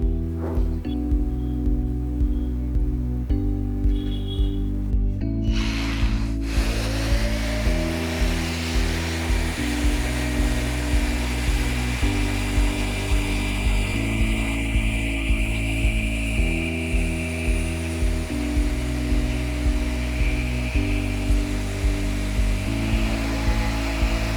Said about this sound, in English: the Mirka Deros is going to help us finish this piece and make it perfect